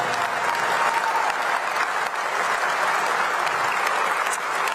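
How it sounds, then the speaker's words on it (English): Audience applause at a Hall of Fame induction for 2025 honoree Bill Stewart, steady and full throughout, from a large crowd in a hall with a faint tone briefly under it. "Please join us in a round of applause for 2025 honoree,"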